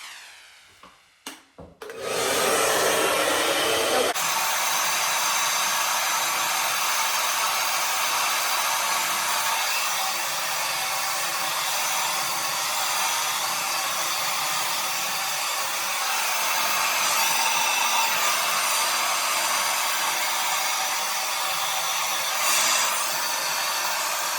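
A hair dryer on its cool setting blowing over natural hair, a steady, loud, close whooshing roar that runs unbroken for over twenty seconds after a brief clatter and click as it starts.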